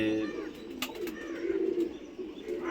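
Pet pigeons coo close by in soft, repeated low throaty calls, with a few brief chirps and light rustles around them.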